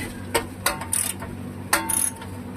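Head bolts are loosened on a Wisconsin Model AB engine, with a few close, sharp ratchet clicks and metallic ticks over a low background hum.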